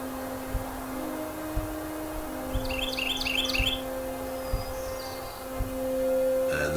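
Short bursts of high bird chirps from a video game's ambient soundscape over a steady hum and low thumping, faint but clear, with a few calls repeating in quick clusters.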